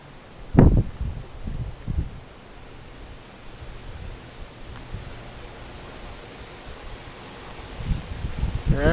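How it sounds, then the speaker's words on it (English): Wind gusting ahead of a thunderstorm, a broad steady rush with a few louder buffets near the start and end, as if striking the microphone outdoors. "Yeah, here comes the wind."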